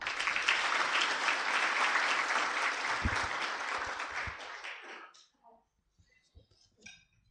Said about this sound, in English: deserves a bigger clap?